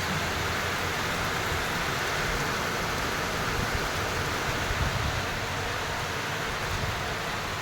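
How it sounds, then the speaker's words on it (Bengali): Heavy rain pouring down outdoors, a dense, unbroken hiss of falling water that holds steady and fairly loud throughout with no voices. "আর বৃষ্টি প্রচুর, বৃষ্টি প্রচুর চারিদিকে, দেখছো ঝমঝম ঝমঝম করে বৃষ্টি।"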